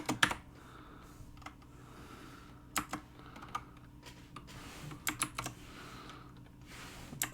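Someone types code on a computer keyboard in Visual Studio, with scattered bursts of crisp key clicks, close and moderately loud, separated by short pauses.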